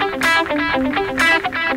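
A distorted electric guitar plays a short run of picked notes with a hard, bright attack on each, loud and close with no talking.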